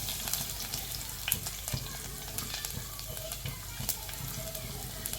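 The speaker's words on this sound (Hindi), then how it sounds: "जीरा जाने के बाद इसी में ऐड हो गई लहसुन" Garlic frying in hot oil with mustard seeds and cumin, a continuous crackling sizzle with scattered pops and light stirring, moderately close and without speech.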